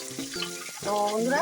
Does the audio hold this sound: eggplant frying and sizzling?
yes